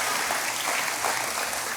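Steady applause from the audience at a state opioid response summit in Maine, a dense, even wash of clapping that holds for just under two seconds without a break.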